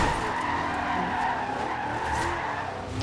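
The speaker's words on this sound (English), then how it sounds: "that fifth gear drift was so sweet" Video game car from Forza Horizon 2 drifting in fifth gear, tires squealing in a continuous loud screech over the engine drone for a few seconds.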